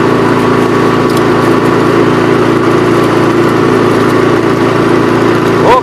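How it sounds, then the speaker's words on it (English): A Toro power broom's small gasoline engine runs steadily and loudly up close while clearing snow, a continuous buzzing drone with no speech over it. "I'll power broom it off real quick"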